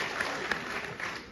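An audience claps in a brief, even burst of applause that spreads across the room at moderate loudness, with no voices over it.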